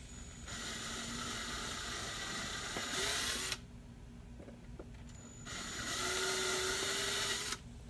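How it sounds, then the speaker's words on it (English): A small electric drill with a 1/16-inch bit whines at high pitch in two bursts, stopping for a couple of seconds between them. "I just use a 1/16 drill bit."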